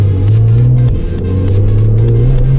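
A Porsche 911's engine hums steadily from inside the moving car, its low drone rising slightly as it accelerates, continuous and fairly loud with no talking.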